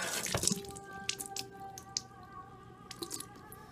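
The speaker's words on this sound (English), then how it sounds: "And I'm also going to rinse the cap out" A mouthwash bottle cap being rinsed under running water produces a few close splashes and drips, with small wet squishes scattered across the short stretch.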